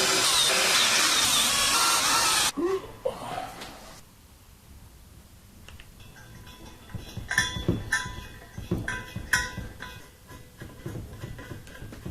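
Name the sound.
power drill driving screws into welding table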